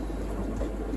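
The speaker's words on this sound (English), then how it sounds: "Can't do much about it because we need the air pump" An aquarium air pump hums steadily at close range, a low continuous drone with faint bubbling texture and no voices.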